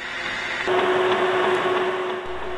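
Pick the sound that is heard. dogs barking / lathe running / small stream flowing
lathe running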